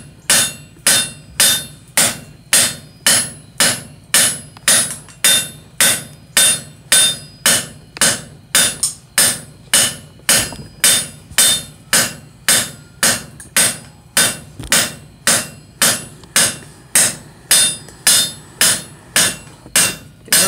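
Steel is hammered into an asymmetrical taper for scrolling tongs: loud, close, evenly spaced ringing hammer blows repeat steadily, roughly two per second, with no talking.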